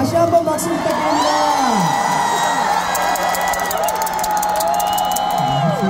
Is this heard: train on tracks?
no